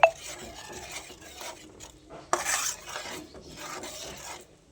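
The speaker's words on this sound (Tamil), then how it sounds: "நல்லா கலரி கொதிச்சதுக்கப்புறம் வாழைப்பூவை போட்டு நம்ம அதில் கிண்டுறோம்." Spoon stirring banana flower pickle in a pan, with scraping and rubbing strokes against the metal and a sharp clink at the start, fairly close and alone.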